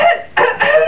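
A rooster crows loudly in a puppet show, a short, close, strident cock-a-doodle call in broken bursts with no talking.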